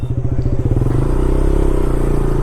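A KTM Duke 200 motorcycle engine revs loudly and close up while being readied for a wheelie, its pitch rising and falling in a steady pulsing drone with no voices over it.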